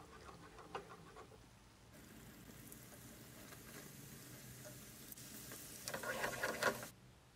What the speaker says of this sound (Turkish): Yağ iyice ısındıktan sonra hamurlarımızı yerleştiriyorum. Her iki yüzünü güzelce pembeleşinceye kadar kızartacağım.